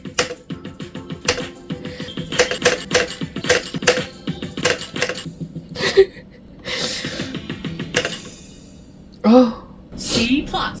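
Computer keyboard keys clacking in quick irregular bursts during cleaning, close and fairly loud, with a person talking and gasping in between.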